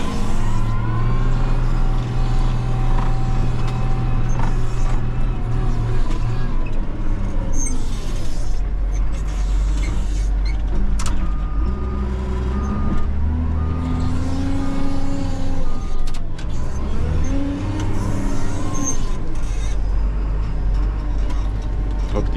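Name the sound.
Caterpillar 930H wheel loader driving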